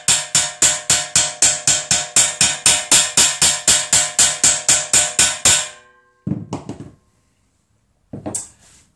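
A hammer taps motorcycle bearing races into their seat in a home workshop, giving about twenty sharp, evenly spaced metallic knocks, close and loud. A pause follows, then a few duller clatters.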